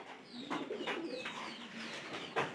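Pigeons coo in soft, repeated throaty phrases at an even rhythm, close by and quiet, with no speech.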